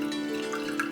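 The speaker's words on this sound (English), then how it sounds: "Take the cloth and twist it, squeezing the liquid into the bowl." Liquid from calf's foot jelly strained through a pudding cloth runs and drips into a bowl, a short soft trickle close by, heard alone.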